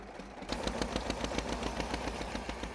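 A North Korean tractor fitted with South Korean technology starts up and runs close by, its engine chugging in a steady rapid rhythm with regular loud pulses. No voices are heard.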